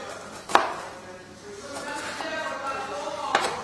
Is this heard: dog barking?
no